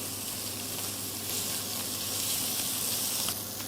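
Sea scallops searing in a hot frying pan give off a steady, close, dense sizzle that carries on without a break and gets slightly stronger toward the end, with no talking.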